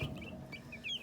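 Meat-bird chickens in a small flock cluck softly and keep overlapping, with brief chirps above a low, steady background. No one speaks.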